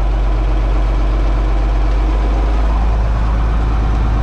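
A tractor engine runs steadily with the PTO engaged and a generator attached, throttle raised slightly, giving a loud, continuous low rumble close to the microphone with no talking.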